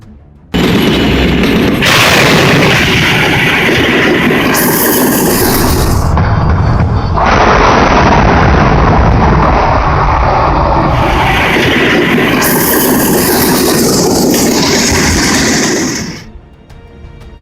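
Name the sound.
train colliding with a pickup truck at a crossing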